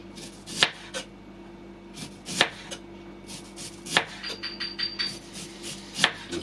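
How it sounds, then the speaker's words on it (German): A knife slices a red onion into rings on a cutting board, giving four or five crisp, well-spaced chops against a quiet kitchen background with no one speaking. "Und die Zwiebel schneiden wir in Ringe."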